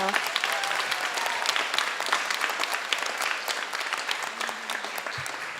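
Audience at a vegan festival's after-movie Q&A breaks into dense, sustained applause that carries on evenly for several seconds with no letup.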